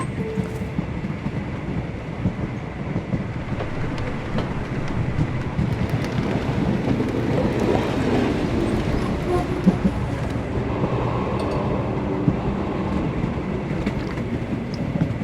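A train rolls along in the Sherlock Holmes: The Awakened game, a steady low rumble of wheels and carriage with faint rhythmic clatter running evenly throughout.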